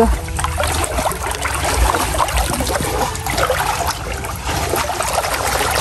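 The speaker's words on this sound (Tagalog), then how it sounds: "Lakas ng agos ng tubig." Water rushes and gurgles continuously, a steady broadband wash of flowing current close by, with a few low thumps early on.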